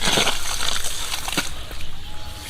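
Water gushing and splashing from the outlet of a homemade siphon pump pipe on a farm, a steady sloshing flow heard close up with no talk.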